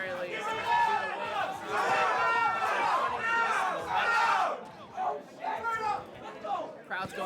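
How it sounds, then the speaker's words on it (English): A live crowd cheering and shouting at an esports tournament, a loud roaring wave of many voices that swells and surges, then eases into scattered yells and chatter. "Crowd's going crazy."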